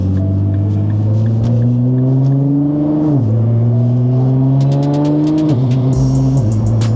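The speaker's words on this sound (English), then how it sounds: "these transmission shifts are rough though" A Nissan GT-R accelerating with rough transmission shifts: the loud engine tone climbs, then drops abruptly twice as gears change, with a sharp ticking clatter near the end.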